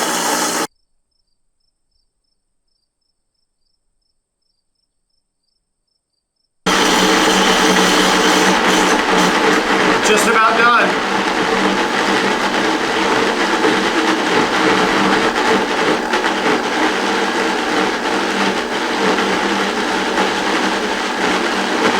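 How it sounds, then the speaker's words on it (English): A blender emulsifying mayonnaise with olive oil runs steadily and loudly after a stretch of silence, its whirring tone shifting slightly partway through as it thickens; a brief spoken remark sits over it. "you'll be able to hear the sound change on your blender here as the mayonnaise starts to thicken"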